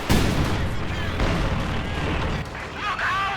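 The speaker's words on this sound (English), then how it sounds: "he's going to get at the very least harassed with artillery" Artillery fire in the Company of Heroes 2 real-time strategy game, a dense, loud rumble of booms and blasts running the whole way through, with radio-style unit voices mixed in.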